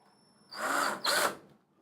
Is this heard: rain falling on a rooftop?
no